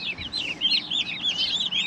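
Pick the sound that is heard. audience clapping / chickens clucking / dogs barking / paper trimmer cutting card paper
chickens clucking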